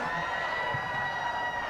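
Football crowd at a women's UEFA Champions League qualifier between Wrexham AFC Women and Riga, a steady wash of cheering and shouting from the stands, fairly distant and continuous without distinct peaks.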